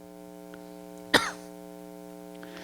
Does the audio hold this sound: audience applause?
no